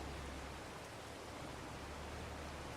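Rain falls steadily in the farming video game Farming Simulator 22, a faint, even hiss of broadband noise with no talk over it.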